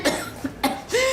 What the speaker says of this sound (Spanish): acude a urgencias con un fuerte ataque de tos